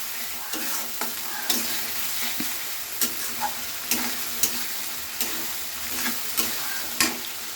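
Green peas are stir-fried in masala for a Bengali katla fish curry, a steady sizzle broken by a regular series of spoon scrapes and knocks against the pan, close and clear, with no voices.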